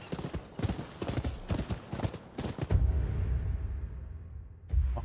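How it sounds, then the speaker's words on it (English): Horse hooves in the video game Rise of the Ronin beat out a quick series of clopping strikes while galloping, then give way to a low rumbling lull and one last thump. "Look how this horse is running."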